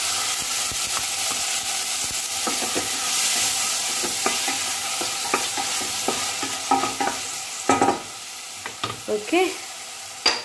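Browned onions and tomatoes fry in a pan with a continuous sizzle while a spoon stirs and scrapes, the stirring growing into louder, choppier clatters toward the end.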